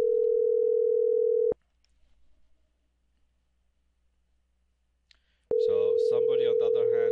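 A test call on a Cisco CUCM phone system gives a steady, loud electronic tone that cuts off into near silence for several seconds, then returns as a voice starts talking over it.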